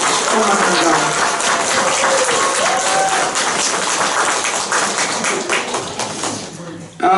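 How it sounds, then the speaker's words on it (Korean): A Sunday worship congregation at Jeonju Seongsin Church applauds to welcome first-time visitors, a loud, dense wash of clapping filling the room, with a voice speaking faintly beneath it. "한번 우리 처음 오신 분들을 위해서 박수로 우리 환영하겠습니다."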